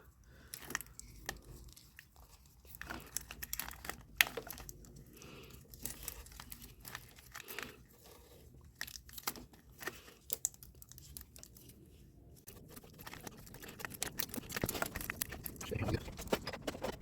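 Dorman wire tape unwound and wrapped around automotive wiring during a MAP sensor repair, a long stretch of crinkling, tearing and sticky rustling bursts at close range, irregular in rhythm, with no talk.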